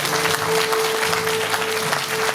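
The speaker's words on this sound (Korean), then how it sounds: "다시 한 번 더 오채은 학생에게 큰 박수 부탁드립니다." An audience applauds after a student's presentation at a civic humanities forum in Pocheon, a steady dense clapping that holds evenly for the whole stretch, with a faint tone running beneath.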